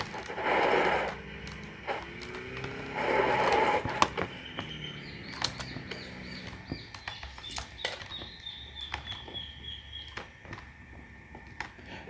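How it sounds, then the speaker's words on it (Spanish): Bird sounds in the video game PUBG Lite, thin chirps and short calls scattered among footsteps, clicks and faint game noises, with a couple of louder buzzing bursts early on. "Ese ruido que parecen pájaros, son pájaros."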